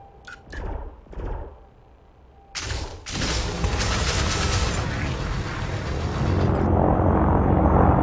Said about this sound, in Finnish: Tai ala ampumaan sitä.